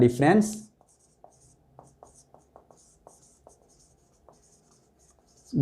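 Marker or chalk writing on a board during a business mathematics lesson: a series of short, close scratchy strokes in irregular rhythm, preceded by a brief burst of a teacher's voice.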